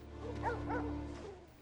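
Sled dogs in an Antarctic snowfield, several yipping and whimpering barks close by in a short cluster over a steady low hum, no talk.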